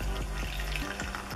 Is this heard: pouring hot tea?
yes